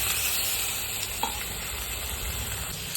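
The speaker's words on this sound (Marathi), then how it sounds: "टोमॅटो आपण थोडंसं भाजून घेऊया त्याला" A steady sizzle of tomatoes roasting in a hot kadai, with a single soft clink of stirring partway through.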